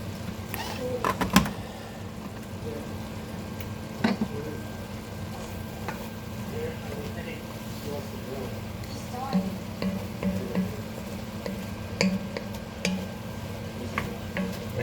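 Ground meat for bolognese browns in a pan with a soft, steady sizzle, interrupted by occasional clicks and scrapes of stirring, all fairly quiet.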